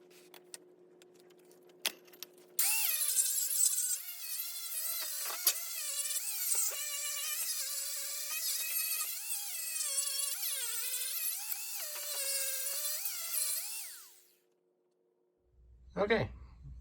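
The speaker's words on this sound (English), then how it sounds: "let's go ahead and start grinding out our inner wheel wells" Power grinder working on the inner wheel wells of a 1980 Chevy second-generation Camaro, a loud, steady high-pitched whine with shifting pitch that runs for about eleven seconds before cutting off, followed by a brief clatter.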